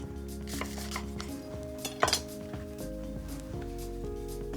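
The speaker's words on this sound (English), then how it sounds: "This bread, just some Turkish bread, I'll cut that into some strips." Turkish bread is sliced into strips on a board, giving a few soft knife strokes and a sharper tap against the wood over a steady background hum.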